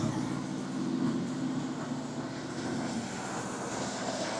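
A 1973 Cadillac Eldorado with 14,042 original miles runs at high idle, a steady, continuous engine drone with a deep rumble and no speech over it.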